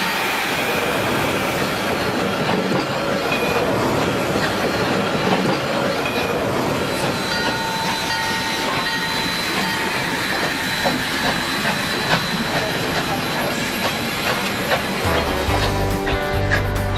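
A restored early steam train on an Alaska gold rush railway runs steadily, with continuous rail rumble, clickety-clack wheel rhythm, occasional squeals and hiss, loud and close throughout, plus a low thump at the very end.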